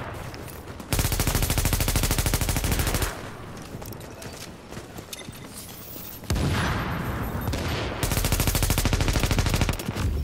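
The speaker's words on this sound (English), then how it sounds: "Stop shooting at me." Gunfire in The Division video game: bursts of loud, sustained rapid automatic fire, with quieter stretches of distant shooting in between, and no voices.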